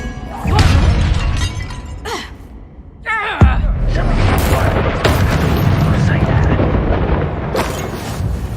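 Spell impacts from a wizard duel in Hogwarts Legacy, a loud shattering boom followed by dense crackling magical bursts and rumble, with voices speaking over the action.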